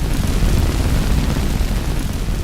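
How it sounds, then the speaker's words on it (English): A dark, crunchy fire blast from Skyrim's fire spell, with a dense low rumble and steady crackling hiss, sustained and loud throughout with no pause. "the vanilla fire spell sounds very crunchy and dark."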